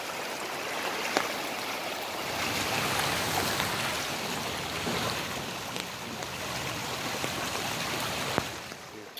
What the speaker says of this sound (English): Look at all that water, guys.